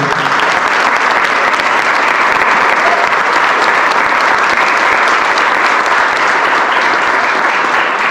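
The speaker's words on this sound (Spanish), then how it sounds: "Un aplauso más fuerte para el Grupo Memorias de mi Pueblo." Sustained, loud applause from an audience for the group Memorias de mi Pueblo, a thick and even roar of many hands clapping without a break for around eight seconds.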